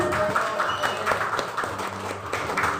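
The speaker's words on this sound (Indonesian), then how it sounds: "tepuk tangan" A classroom of students claps hands in a short burst. Brief, busy clapping is mixed with voices and room noise.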